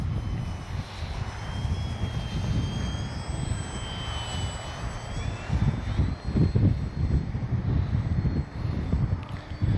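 An FMS Ranger 1220 V2 radio-controlled plane drones overhead in wind, its whining motor rising and falling in pitch as it passes at a distance, with heavy gusts buffeting the microphone and growing stronger toward the end.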